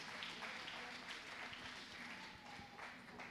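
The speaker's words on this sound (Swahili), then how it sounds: "Tuwapige makofi mazuri wakikaa chini." A church congregation applauds at a Sunday service, a steady wash of many hands clapping together that holds fairly even throughout, with faint voices mixed underneath.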